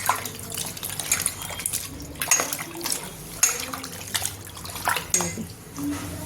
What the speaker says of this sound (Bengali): বেশি করে জল নিয়ে ধুয়ে নিতে হবে, খুব ভালোভাবে ধুয়ে নেব।